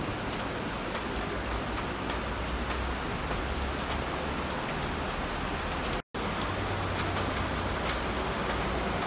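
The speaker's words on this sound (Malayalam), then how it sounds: "ഇന്നിവിടെ നല്ല മഴയാട്ടാ" Heavy rain pouring down on a cold, windy day, a dense continuous hiss of drops on surfaces, steady and loud from start to end with only a momentary dropout, no voices.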